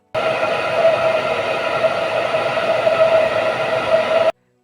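A hair dryer's steady, loud whooshing motor drone with a faint whine, running continuously at an even level before cutting off abruptly.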